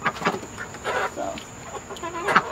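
Chickens, hens and roosters, cluck in a backyard coop shared with ducks, sounding as several short, close bursts scattered across a few seconds with faint background noise.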